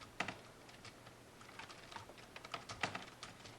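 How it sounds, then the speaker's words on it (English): Fairly quiet typing on a computer keyboard at a newly built PC, with irregular clusters of soft, close keystroke clicks and no talking. "keyboard noise is definitely going to be present in my videos after this computer's all set up"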